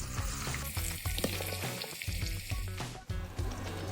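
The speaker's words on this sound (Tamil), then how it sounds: "போட்டு பிரட்டி எண்ணெய் கொதிச்சிட்டது இதை பொரிச்செடுப்போம்." Brinjal pieces deep-fry in hot oil for a kadalai katharikkai kulambu, giving a loud, continuous sizzle and bubbling throughout.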